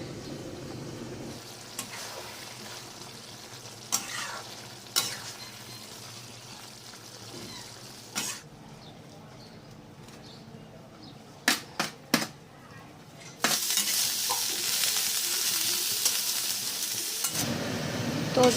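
Vegetable stem curry with spices stir-fried in a pan, giving a low sizzle with occasional sharp scrapes and clanks and a louder burst of frying hiss near the end, heard alone at moderate volume.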